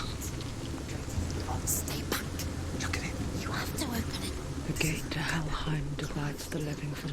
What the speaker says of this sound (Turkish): Ya Yağmur başladı.